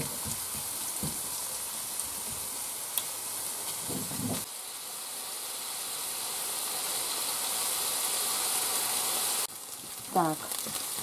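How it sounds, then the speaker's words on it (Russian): Soft, steady sizzling hiss of onion frying in a pan, with faint clinks and a brief voice near the end. "Сейчас Маша жарит этот лучок."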